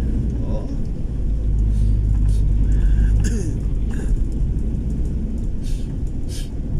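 A jeep travels a road on Panay island in the Philippines, heading from Antique province toward Iloilo City, with a steady loud engine rumble and road noise throughout while a voice talks over it.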